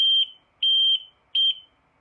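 A high, piercing electronic beep from a Suzuki Burgman 650 turn signal beeper sounds three times in a regular on-off rhythm, each tone steady and loud against otherwise silent air.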